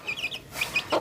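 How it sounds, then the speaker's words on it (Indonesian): Chickens held in a cage give short, close clucks in a quick run of separate bursts. "Ayam masih di kurungan."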